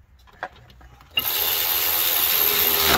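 Battery-powered ratchet spinning Subaru brake rotor bolts: a few faint clicks and taps, then the tool kicks in with a sudden, loud, steady high-pitched whir that runs to the end, close by.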